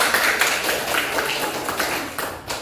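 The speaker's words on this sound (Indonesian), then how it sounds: "kasih tepuk tangan buat" Classroom applause from students during a teaching session, steady mid-level clapping from a small group that carries on for a few seconds and trails off near the end.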